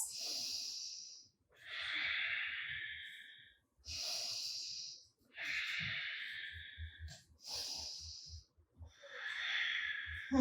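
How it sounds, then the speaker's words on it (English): Loud, close yoga breathing during a stretching flow, long hissing inhales and exhales alternating steadily in a slow rhythm, with soft rustling and thumps of movement beneath. "3 more breaths"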